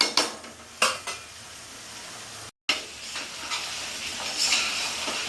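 Chicken being stirred and sautéed in a pot for Bengali-style biryani, with repeated clanks of a spoon against the metal pot over a steady sizzle, close and moderately loud, no talk.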